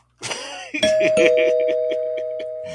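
A doorbell chime rings out loud and close, a bright tonal ding that sustains and slowly fades, with a brief burst of voice-like sound just before it.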